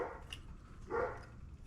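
A dog gives two short, faint barks, roughly half a second apart, heard from a distance over a quiet room background.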